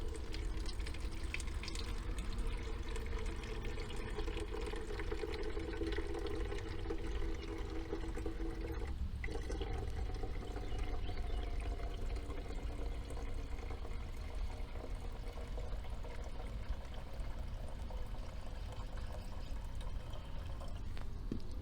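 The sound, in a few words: water filling a bucket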